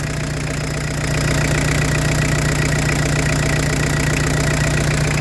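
A Peugeot 205 turbo diesel engine idles close up, a loud steady clattering diesel rumble with a strong low hum that rises slightly after about a second and then holds even.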